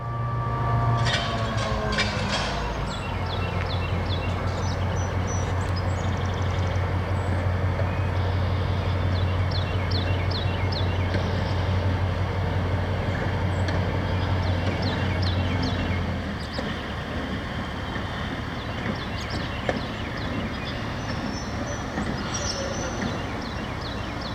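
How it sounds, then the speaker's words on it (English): Freight train NX-10 on the Housatonic south end, switching and backing down onto its southbound train: a steady, loud diesel rumble with a low drone lasting most of the time, then easing off, with faint clanks and squeals of railcars. "the NX-10 backs down onto their southbound train"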